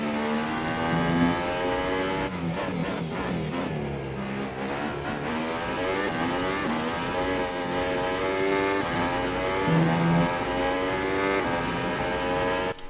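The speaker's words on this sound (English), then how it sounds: "Listen to the sound of this Red Bull." Red Bull Formula 1 car in F1 2018 video game, modded with Toro Rosso engine sound: a loud high-pitched engine wail rising and falling through upshifts and downshifts, continuous with no talking.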